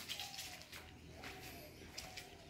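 Pigeons coo softly and repeatedly in a palace garden in Udaipur, a low rhythmic call at moderate distance amid light outdoor ambience.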